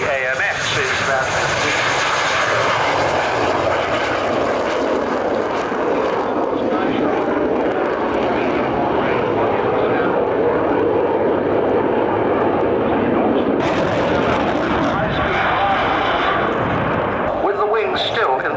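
An AMX jet flying at the 1992 Farnborough airshow gives a loud, continuous engine roar and rumble that sweeps and shifts as it passes, with a commentator's voice over the public address throughout.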